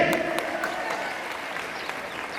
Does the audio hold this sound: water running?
no